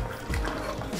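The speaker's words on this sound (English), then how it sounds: "And some more water to it." Water is poured into a simmering Kerala-style fish curry gravy made with coconut paste, a short, close liquid splash and trickle into the pan with no talking.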